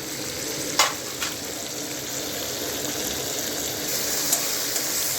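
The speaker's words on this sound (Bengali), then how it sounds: "পেঁয়াজটাকে ভেজে নেব।" Chopped onions sizzle and fry steadily in a pan for a prawn poppy-seed dish, a continuous hiss with a few brief stirring clinks, close and moderately loud, with no talking.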